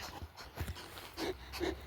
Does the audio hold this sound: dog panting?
yes